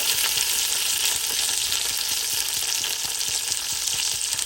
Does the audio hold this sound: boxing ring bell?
no